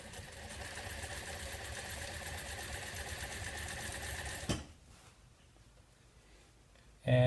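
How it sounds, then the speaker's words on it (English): An industrial sewing machine stitches scalloped valance fabric in a fast, steady whirring run that stops abruptly partway through, leaving near-quiet before a sudden loud thump at the very end. "I'm using an industrial sewing machine."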